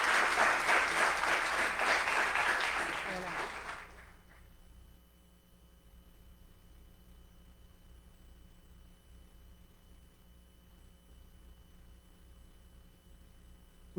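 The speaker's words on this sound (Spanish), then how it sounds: "Un aplauso, por favor, fuerte para el doctor." An audience at a lecture applauds a guest doctor: dense, loud clapping for about four seconds, then stopping abruptly and leaving a quiet room hum.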